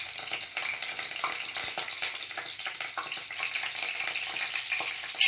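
Curry leaves and dried red chillies fry in hot oil for chicken liver curry, making a loud, dense, continuous crackling sizzle up close with no talking.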